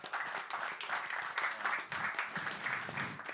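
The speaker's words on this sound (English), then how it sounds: "Give this man a round of applause." Audience applause at a live Bitcoin education event, a steady dense wash of clapping that carries on for several seconds without a break.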